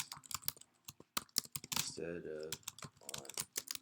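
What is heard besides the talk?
typing on a computer keyboard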